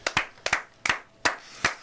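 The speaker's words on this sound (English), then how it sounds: "Spontaneous round of applause." A spontaneous round of applause, here just a few sharp hand claps spaced evenly, about five distinct claps ringing out close and clear with no talk.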